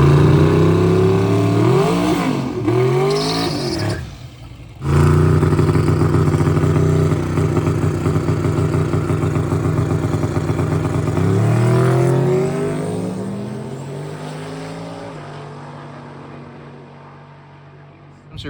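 A low-prep drag race car makes a test pass, its engine roaring loud and close and bouncing repeatedly off the rev limiter in a stuttering buzz, then fading to a steady drone as it slows.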